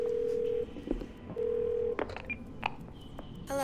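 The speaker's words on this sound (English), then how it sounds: "Call Bumblebee" Phone dialing tones from the video game Twelve Minutes, two long steady beeps separated by a gap, with brief clicks and short tones in between, heard clearly with no talking.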